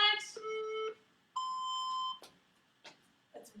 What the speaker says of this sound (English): you're going to hear my little timer talking to you